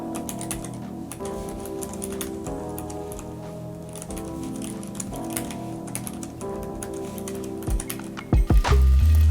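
Clicky typing on a mechanical keyboard, a steady run of keystrokes heard up close, with a louder burst of thumps near the end.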